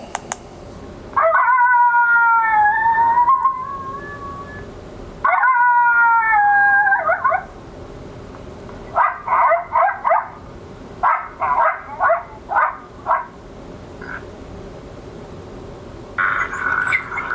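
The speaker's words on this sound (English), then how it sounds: "You can hear that fight getting real aggressive." Two drawn-out howls are followed by bursts of snarling, yipping and growling, like animals fighting, played from an electronic predator caller, loud and close with short pauses between outbursts.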